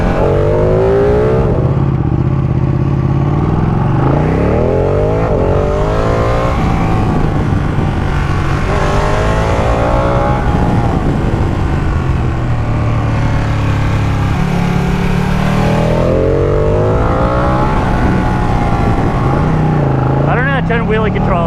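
A 2018 Ducati Panigale 959 Corse motorcycle engine revs and accelerates loudly up through rising gear pulls, steady and close throughout, with a rider's voice talking over the engine.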